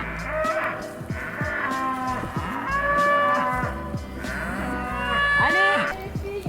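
Cows on a farm mooing loudly and close, several long drawn-out calls in succession, some overlapping, with no talk.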